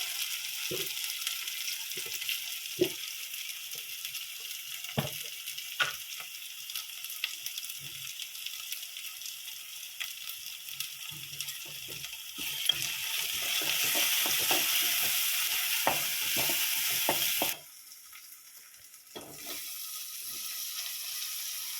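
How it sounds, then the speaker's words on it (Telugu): Ginger garlic paste sizzles and fries in a pan for egg curry while a spoon stirs it in steady scrapes, a continuous close hiss rising louder midway before dropping briefly near the end. "అల్లం ఎల్లిగడ్డ పేస్ట్ వేసి అంతా కలుపుకుందాం, కలిసేంత వరకు."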